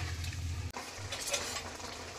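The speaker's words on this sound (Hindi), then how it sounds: "अब इसे हम अच्छी तरह से एक बार मिक्स कर लेते हैं" Fried pointed gourd is stirred into a pan of curry, with soft scraping and clinking of a spoon against the pan over a low sizzle, close up, including one sharp knock.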